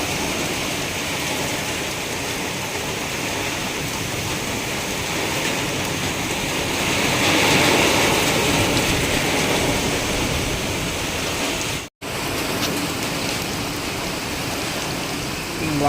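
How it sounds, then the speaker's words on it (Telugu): Heavy monsoon rain pours down steadily in a village, a dense continuous roar like rushing water with a brief dropout near the end, no voices heard. "ఏం కొడుతుంది అబ్బా వాన"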